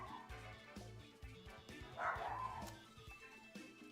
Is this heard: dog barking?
yes